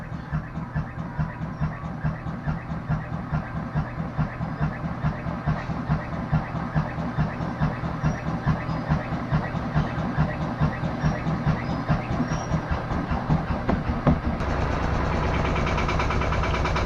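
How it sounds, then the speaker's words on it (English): Front-loading washing machine on regular spin, its wobbly drum making a rhythmic thumping, steady and close, then shifting to a smoother higher whir. "my front load washing machine, where the drum is wobbly, on regular spin"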